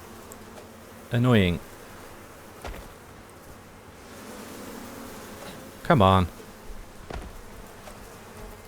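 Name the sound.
bees buzzing in Icarus video game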